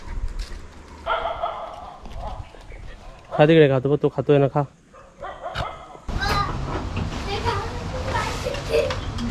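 A pet dog at home gives a quick cluster of sharp barks mid-way, surrounded by people talking and coaxing it to eat while guests are around.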